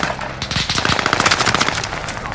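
Gunfire in the video game Warzone on the Caldera map: a loud, rapid automatic burst rattles almost continuously for about two seconds, dense and close.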